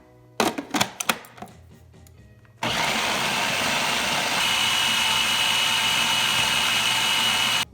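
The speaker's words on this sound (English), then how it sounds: "we've added all of our ingredients to the food processor." A food processor whirs loud and steady through pumpkin granola ingredients, including plantains, after a few sharp clicks and knocks as the machine is set up, the blending running evenly to the end.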